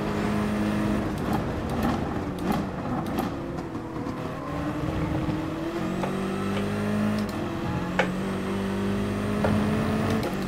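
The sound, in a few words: Nissan race car engine accelerating in GT Sport video game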